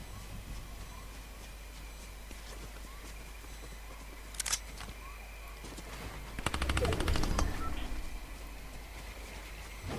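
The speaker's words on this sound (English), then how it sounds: "it seemed like someone was firing at me and then got fired on by someone else" Fortnite gunfire rings out at a distance, first a lone sharp shot and then a dense rapid burst of automatic fire lasting about a second, over a steady low background hum with no talking.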